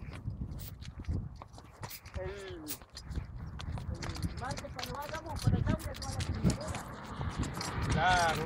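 Horse hooves clip-clop irregularly on a group horseback ride with veterans, heard up close beneath people talking and chatter.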